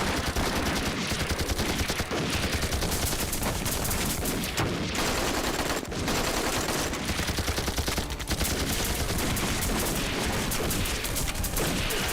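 Heavy sustained gunfire in an action film, dense overlapping automatic bursts and shots that stay loud throughout, with a few brief dips between volleys.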